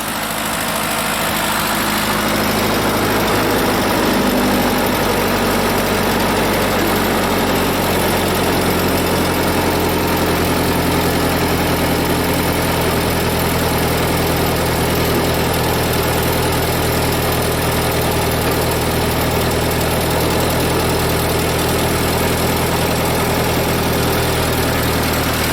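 A Ford 8N tractor engine idles steadily and close by for the whole stretch, a continuous low mechanical rumble with vibration and no talking.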